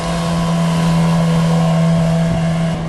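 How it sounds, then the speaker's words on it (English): A motorboat passes on the River Thames near Henley, its engine a loud, steady, close hum with a strong low tone, wind buffeting the microphone throughout. "now we've got a boat coming"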